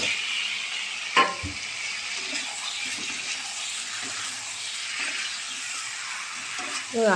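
Boiled potatoes hit hot oil for aloo dum and sizzle softly and steadily, with a couple of sharper clinks and stirring scrapes from the pan along the way.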